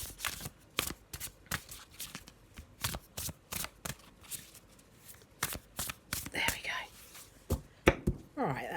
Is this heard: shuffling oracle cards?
yes